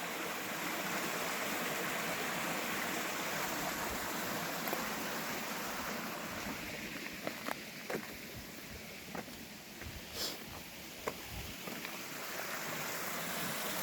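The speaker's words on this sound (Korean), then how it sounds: "저기 큰 바위 밑으로 물 흐르는 거 보세요." A mountain valley stream flows under large boulders, giving a steady broadband rushing wash throughout, with a few faint knocks and clicks in the second half and no talk.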